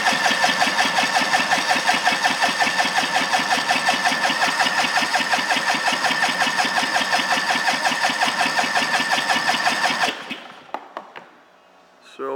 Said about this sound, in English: We're going to do engine compression test, and we are going to do the oil filter side first.